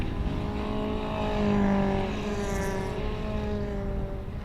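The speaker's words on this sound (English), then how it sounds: "They go through the corkscrew now with Darren Aldworth in that blue and white number 43 car" Toyota MR2 race cars at Anglesey's corkscrew section, a steady engine drone with shifting harmonic tones as the cars pass, fairly distant and continuous with no talk.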